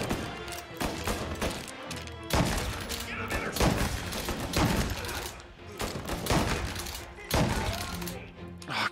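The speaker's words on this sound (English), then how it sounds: "This is a shotgun!" Shotgun blasts in the Mafia game, several loud booming shots at irregular intervals with gunfire and impacts in between, a voice talking over them.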